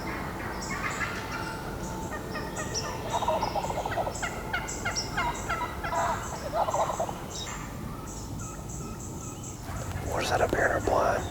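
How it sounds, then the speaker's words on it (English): Wild turkeys gobble repeatedly all around a hunting blind, the calls overlapping in near and farther bursts over a steady outdoor background, with soft whispering talk mixed in. "There are literally turkeys everywhere."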